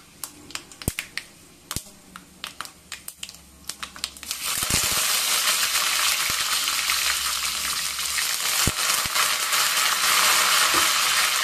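Cumin seeds tempering in about a tablespoon of hot oil for a Telugu gongura and green chilli pickle: sharp scattered crackles and pops at first, then a loud, steady, close frying hiss that fills the rest.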